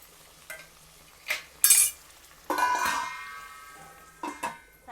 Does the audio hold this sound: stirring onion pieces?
yes